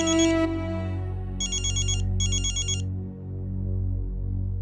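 Telephone ringtone in a home setting, a bright electronic tone sounding in three bursts over a low sustained background, fairly loud and close with no talk.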